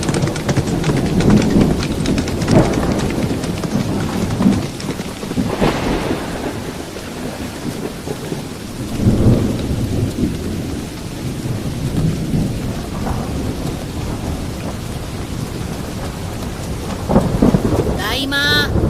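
A thunderstorm with heavy rain on a stormy night, with steady dense rain hiss and low, rolling thunder rumbles swelling several times. Faint hoof-like clopping runs beneath, with no talking.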